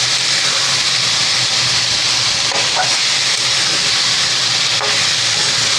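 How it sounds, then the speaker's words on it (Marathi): Tandoori cauliflower and paneer curry being mixed in a pan over a high flame: a loud, steady frying hiss that fills the whole stretch, with a few faint scrapes of a spoon underneath. "त्याला छान मिक्स करायचं."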